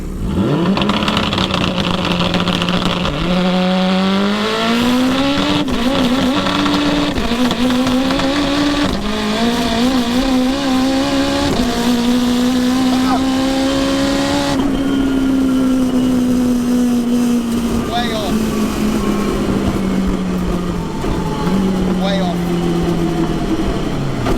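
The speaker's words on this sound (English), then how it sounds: "this is actually the first time I am launching this car since Carwow, pretty much" A 922hp all-wheel-drive Honda DC5 launches hard with wheel spin, its engine screaming loud and close as the pitch climbs through several gear changes, with talk underneath.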